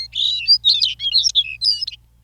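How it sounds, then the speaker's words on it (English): A Longspur sings in the Arctic spring, a bright run of warbling, jingling phrases delivered in a song flight, loud and clear with no other sound behind it. "The Longspur flaps upward 100 feet, then sings his languid song as he drifts slowly back to earth."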